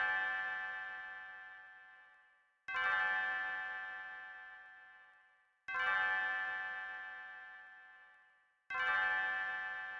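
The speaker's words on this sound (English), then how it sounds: "Do you guys hear that bell?" A single bell strikes loudly four times at steady intervals of about three seconds, each ring leaving a long, ringing tone that slowly fades before the next strike, with no talking.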